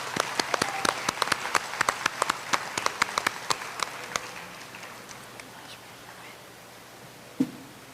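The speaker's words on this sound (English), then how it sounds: "Please give her a warm round of applause." Audience applause for a singer at a Rangapravesam dance performance, a burst of scattered hand claps that thins out and fades over several seconds, with faint murmuring underneath.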